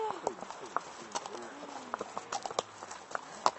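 Hooves thud and clop at an irregular pace on soft riding ground at a stable, moderately near, with voices talking faintly in the background.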